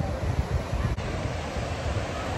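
Ocean waves washing onto an Orlando shore, a steady soft rush of surf blended with gusty wind noise on the microphone, fairly faint and continuous, with no one talking.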